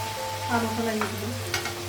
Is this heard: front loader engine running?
no